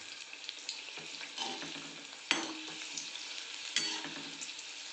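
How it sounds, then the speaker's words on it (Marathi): Capsicum pakoras fry in oil over a low flame, giving a soft, steady sizzle and bubbling close by, broken by a couple of sharper crackles and pops. "मंद आचेवरच आपल्याला त्याला तळून घ्यायचं आहे"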